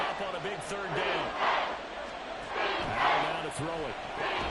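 A stadium crowd in Madden NFL 24 roars and swells steadily under a commentator's play-by-play voice, the cheering rising and falling over several seconds.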